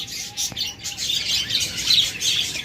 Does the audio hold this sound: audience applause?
no